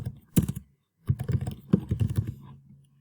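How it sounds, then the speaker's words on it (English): Someone types an email address on a computer keyboard: quick bursts of close, crisp key clicks, a brief pause, then a longer run of rapid keystrokes tapering off. "Now that I've typed in his email, I'm going to type in the password."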